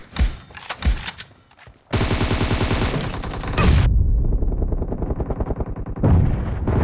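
Gunfire in a mobile shooter game, Battlegrounds Mobile India or CODM: a few sharp single shots, then sustained loud automatic bursts with a brief pause before more firing, no speech.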